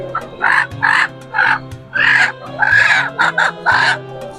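A rooster and chickens at Jinjira bazaar, Dhaka, with loud, close, repeated clucking and squawking calls in rapid bursts, one after another.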